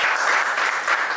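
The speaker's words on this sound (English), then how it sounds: "A round of applause for him." A brief burst of audience applause at a FESTAC marathon press conference, dense and steady clapping lasting about a second.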